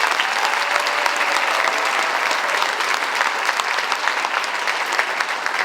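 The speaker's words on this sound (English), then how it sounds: "We have one more round of applause for our concert orchestra students." Steady, full audience applause fills a school auditorium after a high school orchestra concert, a dense wash of many hands clapping continuously at a constant level without letting up.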